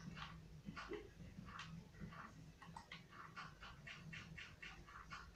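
A dog's faint, repeated yelps or whimpers sound from a distance over a steady low background hum, with a television on downstairs and rain falling, recurring in a loose rhythm.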